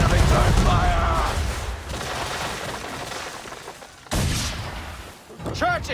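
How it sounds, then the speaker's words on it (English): Naval battle in Assassin's Creed 3, with cannon and gunfire booming in dense, continuous volleys and a sharp new blast late on, while voices shout under the roar. "Enemy ships approaching! Ready our weapons! Prepare to return fire!"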